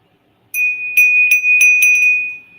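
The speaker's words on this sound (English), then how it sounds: "BLEIKRISTAL bell from West Germany." A vintage Bleikristal lead crystal bell from West Germany rings loud and close, several quick shakes producing a clear, pure sustained tone that fades gently after the last strike.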